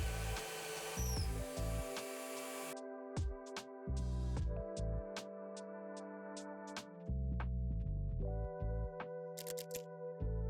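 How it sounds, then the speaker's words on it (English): A power drill fitted with a plug cutter bit cuts plugs from a mango wood offcut, giving several bursts of whining motor and grinding wood, broken by short pauses, close and moderately loud. "A plug cutter is a simple bit that cuts a short cylindrical plug from a piece of timber"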